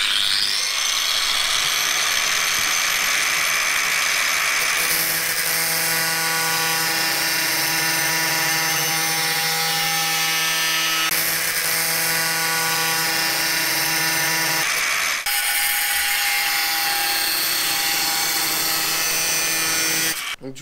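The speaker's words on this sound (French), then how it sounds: "on découpe des barres de 10 cm dans la barre de métal, on prend la disqueuse pour ça" An angle grinder cuts 10 cm pieces from a flat steel bar, a loud, steady high-pitched whine with harmonic tones that runs continuously, shifting pitch as the disc bites into the metal, with no talking.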